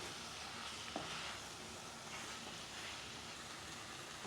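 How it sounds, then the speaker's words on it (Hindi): Spices frying with raw mango pieces in a pan, a steady soft sizzle running throughout with a faint scrape near the start, no voices. "अब हम लगभग 1 से 2 मिनट तक इन मसालों को केरी के साथ पकने देंगे।"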